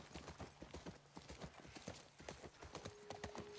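Horse hooves clip-clop in The Last of Us Part 1, a quiet, steady rhythm of hoof strikes on hard ground that continues throughout with no other sound over it.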